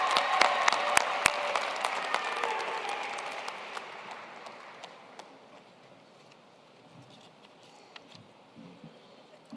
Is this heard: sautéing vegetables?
no